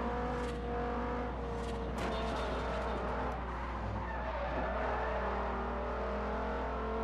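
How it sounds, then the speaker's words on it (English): A race car in the Forza Horizon video game downshifts, its engine note stepping and whining over a continuous roar, with tire squeal and a steady low hum underneath. "I like the sound when you downshift"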